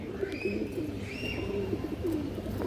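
Soft, low pigeon coos repeat in short rolling phrases over a steady murmur, with a few faint higher chirps from other birds in the background.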